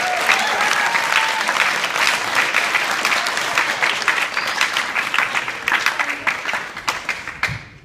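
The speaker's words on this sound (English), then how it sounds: "Let's give them a big round of applause." Audience applause for a school band at a spring concert, full and steady at first, then gradually thinning into scattered individual claps.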